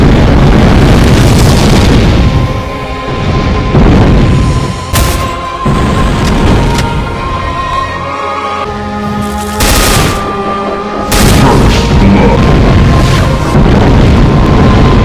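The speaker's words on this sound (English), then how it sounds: "It even has the pyro cannon." Pyro cannon blasts in a Doom mod erupt as loud, rapid explosions and booms, a heavy barrage with sharp bursts recurring every few seconds over continuous rumbling.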